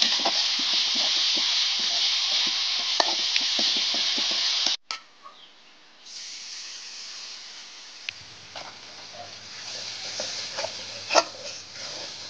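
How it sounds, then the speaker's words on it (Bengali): Garlic and ginger paste fries loudly in a hot pan with a bright, steady sizzle and stirring scrapes, then cuts off abruptly to a quieter background with faint clinks, a low hum and occasional knocks. "এখন দিয়ে দিব আমি রসুন আর আদা বাটা, দিয়ে ভালো করে ভেজে নেব"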